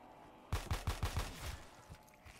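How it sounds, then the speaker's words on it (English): Shotgun fire in Black Ops 3 Custom Zombies: five loud, sharp blasts in quick, even succession, each with a booming low thud, followed by a fading rumble and scattered faint in-game sounds. "Damn, the shotgun's so good."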